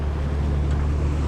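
An 18-horsepower boat engine runs at a steady idle, a loud, close, continuous low drone with wind noise buffeting the microphone and no talk.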